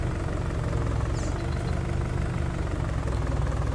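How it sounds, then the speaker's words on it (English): A 145-horsepower four-wheel-drive Massey Ferguson tractor in Farming Simulator 19 runs with a steady, low, rumbling engine drone, close and continuous, with no talk. "Massey's 145 horsepower, and it's a four-wheel drive tractor as well"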